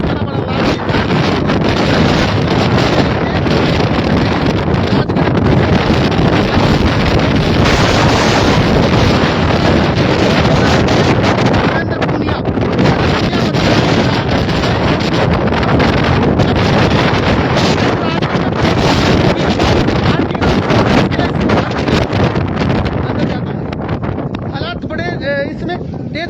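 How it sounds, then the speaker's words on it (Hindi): Strong wind blows during a severe dust storm in Churu, a loud, continuous roar with heavy gusting buffeting the microphone for the whole stretch. "बहुत तेज हवाएं इसमें चल रही हैं, बाहर दिख पाना मुश्किल है।"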